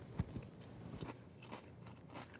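Crunchy cornflakes in milk are chewed up close, giving quiet, irregular bites and crunches with no talking.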